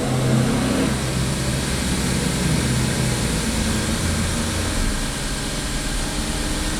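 A Chevy Equinox engine dropped to lower RPM and starting to misfire and chug, a loud, close, continuous rumble with no talk.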